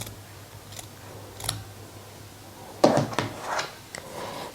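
Scissors snipping through fabric quilt binding to leave an overlap, with a few faint clicks early and then a louder, crisp crunchy cut near the end, close and without talk.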